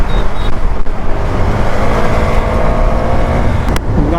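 A KTM Duke 390 motorcycle speeds down a road, its engine a loud, unbroken roar mixed with heavy wind rush, very close and constant throughout.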